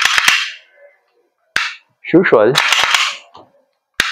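Sharp metallic slide racks and clacks of an Umarex Glock 45 Gen 5 MOS gas blowback airsoft pistol by GHK, several crisp close snaps with a short clattering rattle in the middle and someone speaking briefly.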